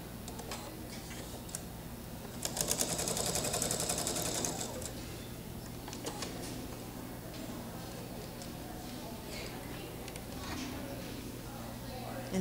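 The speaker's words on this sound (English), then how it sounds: "Sewing a complete seam." Stitching a complete seam, a sewing machine gives a brief burst of rapid ticking near the start, then low handling and faint ticks follow, with a steady hum throughout.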